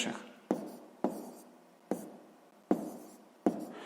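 Pen or chalk writing out a sixth-grade maths solution, a few short strokes each starting with a sharp tap and fading, separated by brief quiet gaps, close and fairly soft.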